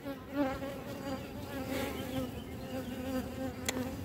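Dense, steady buzzing of honeybees inside a hive with a failing queen, a continuous close drone holding level throughout with no voices.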